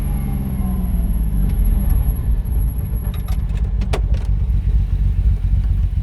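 1975 Lancia Stratos HF Group 4 works car engine roars continuously from inside the cabin, a loud, steady low drone with faint clicks and rattles layered over it.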